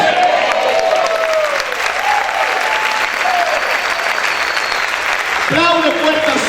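Loud applause from a church congregation fills the space throughout, with a voice and tonal sounds rising over it and a brief swell near the end.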